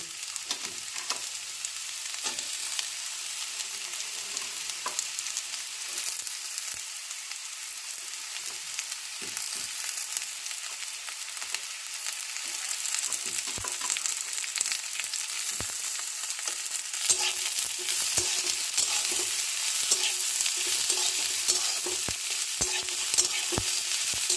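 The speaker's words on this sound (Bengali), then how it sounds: "পেঁয়াজ লঙ্কা দিয়ে ভেজে নিলাম" Onion and chili frying with potatoes in a pan while making suji upma, a steady close sizzle with frequent scraping stir clicks, growing a little louder toward the end, no voices.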